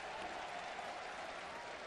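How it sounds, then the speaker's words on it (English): A baseball crowd at a stadium applauds steadily during a Yankees at Blue Jays game, a dense, even wash of distant clapping and cheering that holds without a break. "They're applauding the balls, booing the strikes."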